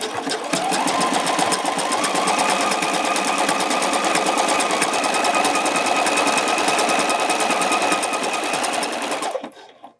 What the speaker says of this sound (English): I'm going to only go as far as the band, and then I'm going to stop